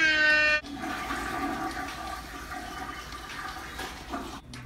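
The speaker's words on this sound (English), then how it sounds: "That's the sound of the old competition getting flushed." A toilet flush sound effect begins with a brief bright tone, then breaks into a steady, close rush of draining water that slowly settles.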